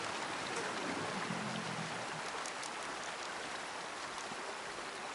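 Creek water in the hunting game Way of the Hunter flows in a steady, loud, dense broadband rush that never lets up, with no voices over it.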